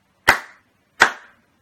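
A pair of crisp, close hand claps sound evenly spaced roughly three quarters of a second apart, each ringing briefly before dead silence.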